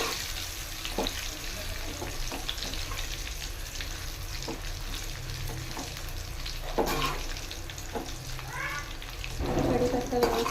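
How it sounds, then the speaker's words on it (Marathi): Curry leaves fry in hot oil for a Diwali chivda, a steady crackling sizzle running throughout with a few sharper pops and spatters near the end. "आपण गॅस ऑन करूया आणि त्यामध्ये 1 वाटी इतकं कढीपत्ता आपण तळून घेऊया."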